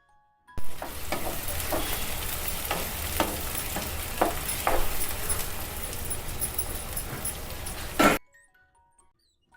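Sliced onions and green chillies dropped into hot oil for a country chicken curry, setting off a loud steady sizzle with occasional stirring clatter, then cutting off abruptly.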